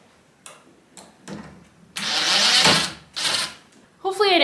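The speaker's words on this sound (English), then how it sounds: "Hopefully I didn't ruin my husband's drill." An electric drill used during an art studio makeover whirs in short bursts and then one longer, louder run, close by, with brief quieter pauses between.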